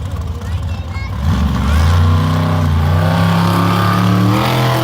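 A monster truck engine roars and revs during a sidewall bicycle move at a Monster Jam event in El Paso in 2022, loud and rising, while a commentator talks over it.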